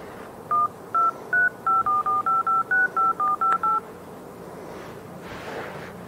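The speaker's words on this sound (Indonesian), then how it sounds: "Ini adalah handphone. Jika dinyalakan akan berbunyi." Mobile phone playing a run of about a dozen short beeping key tones in a quick, even rhythm, clear and close, then quiet room background.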